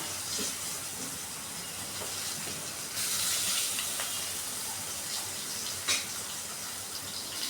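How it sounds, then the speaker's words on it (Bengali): Chopped onions hit hot oil in a wok, producing a sudden loud sizzling hiss partway through that stays bright and steady, with a few sharp crackles and spits over a low kitchen background. "একই কড়াইয়ে দিয়ে দিব কেটে রাখা পেঁয়াজ"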